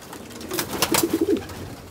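Pigeons coo nearby at Asomata near Veria, Greece: a soft rolling run of low throaty coos in the middle, with faint outdoor background around it.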